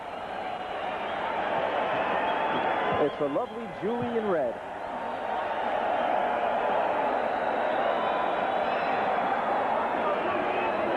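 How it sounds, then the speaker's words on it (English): A large boxing arena crowd roars steadily in a continuous dense wash of cheering and applause, loud and unbroken, while a commentator talks over it briefly. "And now the crowd roaring even more"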